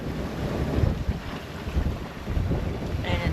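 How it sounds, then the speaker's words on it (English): Strong wind buffets the microphone aboard a sailboat on a starboard tack off the coast, with steady gusting roar and water wash close by. "The wind has picked up a little bit."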